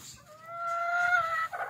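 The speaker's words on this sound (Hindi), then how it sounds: "तो दोस्तों ये वाली मुर्गी हम लेकर आए हैं" A broody hen inside a cage gives a drawn-out, tonal clucking call, fairly close and clear over a quiet background, ending with a short rougher cluck.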